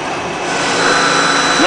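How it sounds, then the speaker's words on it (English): A CNC machine rigid taps M3 threads into an aluminum gear-mounting part. A steady mechanical whine runs throughout, and the pitch sweeps upward right at the end. "This is called rigid tapping. This is how we get that M3 thread in those holes"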